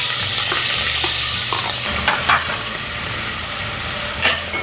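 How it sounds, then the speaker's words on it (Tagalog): Shrimp heads and shells sauté in oil with annatto powder in a pan, giving a loud continuous sizzle with occasional scraping stirs, close up and without talk. "Igisa natin yung shrimp heads and yung balat ng ating shrimp."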